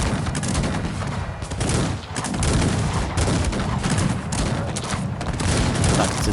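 Musket and cannon fire rage in a Cossacks 3 battle, a dense continuous fusillade of overlapping shots and booms, loud throughout with a brief dip near the middle.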